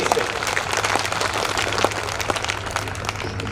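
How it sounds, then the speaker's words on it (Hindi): Audience applause at a Hindi comic poetry gathering, a dense, steady patter of many hands clapping that carries evenly through the whole stretch at moderate loudness, with no speech over it. "थोड़ी तालियां और होनी चाहिए"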